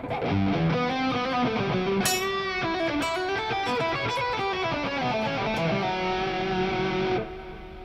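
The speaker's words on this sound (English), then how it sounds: "it's a Mesa emulated amp with 212 Mesa cabinet IR, and I have the built-in delay on there and reverb." An electric guitar plays sustained melodic lines and bends through a Mesa emulated amp with a 2x12 Mesa cabinet impulse response, built-in delay and reverb, with a lightly overdriven tone, trailing echoes and faint string noise.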